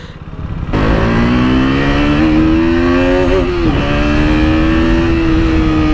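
A KTM RC 200 motorcycle engine, rated at 25 horsepower, starts up and then holds a loud, steady, buzzing idle close by, rising slightly in pitch as it revs a little higher, with no talking.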